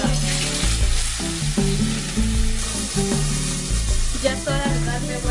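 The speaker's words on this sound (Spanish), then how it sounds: "En este momento voy a poner las chuletas a freír." Pork chops frying in hot oil, a steady loud sizzle with crackling that holds throughout the clip, with no talk over it.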